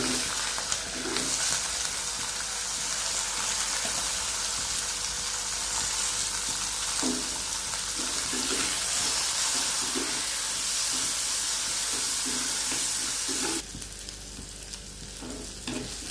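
Garlic and shallots sizzle steadily in hot oil, frying for a brinjal kuzhambu, with a bright continuous crackle and occasional spoon scrapes. The tone shifts slightly near the end.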